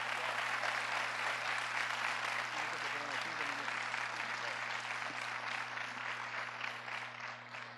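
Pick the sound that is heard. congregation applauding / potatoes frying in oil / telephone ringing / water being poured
congregation applauding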